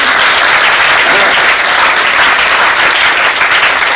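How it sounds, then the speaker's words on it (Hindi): Loud, dense applause from a large crowd, sustained evenly throughout with no pauses. "एक तालियां तो चाहिए इनके लिए।"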